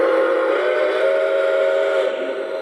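Whistle of a Lionel Legacy CNJ O gauge model steam locomotive blows as one steady, loud, sustained chord, tapering slightly at the end, with no voices.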